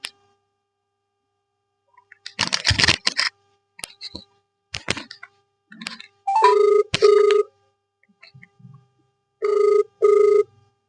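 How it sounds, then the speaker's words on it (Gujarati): A mobile phone call rings out with two pairs of electronic ringback tones, spaced a few seconds apart, amid scattered handling clicks and brief noises in an otherwise quiet room. "तो रिंग जाए है"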